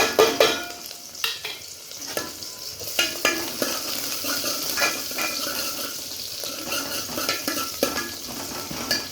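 Chopped onion, garlic and chilli sizzle and spit in hot oil, with a steady frying hiss broken by the scrape and clatter of a stirring utensil against the pan, close and fairly loud with no talk.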